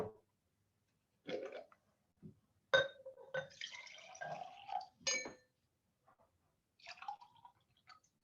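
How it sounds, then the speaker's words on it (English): Water poured onto white salt solids, calcium carbonate and sodium chloride, in a lab demonstration; a few short splashing, clinking bursts of liquid against glass, separated by silence, close and fairly quiet. "if I put water in them"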